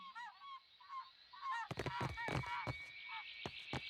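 A bird squawks with repeated honking, goose-like calls in the fantasy role-playing game Pillars of Eternity II: Deadfire, over a steady ambient hum and mixed with a series of sharp percussive knocks.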